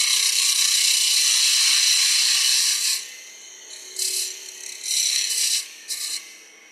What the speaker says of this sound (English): so see if I can trim it up a little bit better with the parting tool